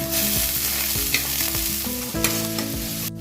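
Garlic paste and onions frying in a pan, a steady loud sizzle with several stirring scrapes and clatters; a rising tone runs underneath near the end.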